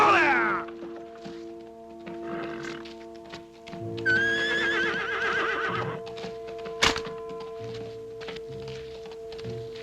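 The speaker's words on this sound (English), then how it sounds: "I say it's an horse coming up at a canter, Joe." A horse comes up at a canter in a Tale of Two Cities drama, with loud whinnies and neighs over clip-clop hoofbeats, a sharp thunk partway through, and steady droning tones behind.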